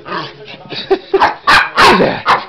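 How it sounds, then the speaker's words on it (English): A dog barks and yips up close in a series of short, loud bursts, with a few softer whimpering sounds in between. "It's a cute ass dog"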